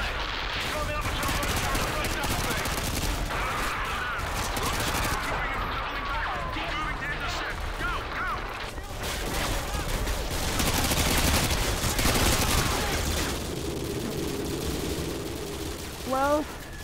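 Heavy militia gunfire rattles through a Modern Warfare 2 video game battle, with dense overlapping automatic bursts and single shots going on throughout, loud and continuous, with faint voices in the mix.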